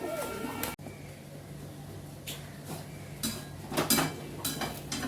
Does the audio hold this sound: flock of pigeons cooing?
yes